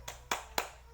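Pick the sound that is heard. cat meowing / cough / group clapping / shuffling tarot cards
group clapping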